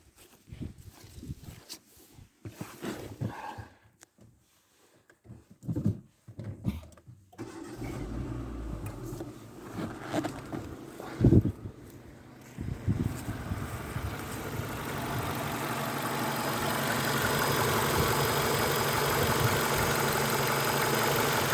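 A cold Renault Megane 2 engine with a suspected connecting rod knock is cranked and catches partway through, then settles into a steady, close idle that fills the rest of the recording after some quieter handling noises.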